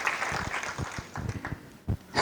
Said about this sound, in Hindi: जमिनी सहाय जी के लिए एक बार जोरदार तालियां बजाते हैं।